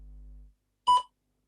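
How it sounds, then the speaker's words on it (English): A single short electronic beep sounding once, clear and alone after a faint low hum fades out, marking the start of a spoken response in a TOEFL speaking practice test. "Please begin speaking after the beep."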